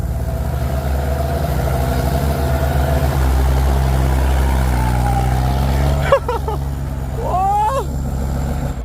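Farm tractors, a 7840 and an M8540, race one another, their diesel engines droning steadily and loudly, with a brief shift in pitch partway through; nobody speaks.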